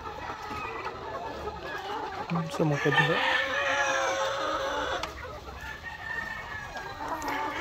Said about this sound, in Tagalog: ito yung mga manok natin mga ka-farmers